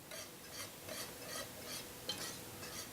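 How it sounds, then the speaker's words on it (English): A whisk stirs melting marshmallows and cream cheese in a pan, giving a soft, rhythmic swishing with a stroke roughly every third of a second, faint and close, with no talk. "I've pulled out my whisk in these final moments of melting the marshmallows."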